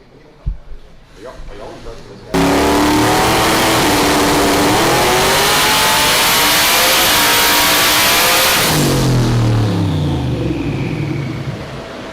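A Ford Coyote V8 Mustang making over 2000 horsepower on a dyno at around 26 psi of boost: after quiet shop noise, a loud sustained engine roar climbs steadily in pitch for about six seconds, then drops off and winds down.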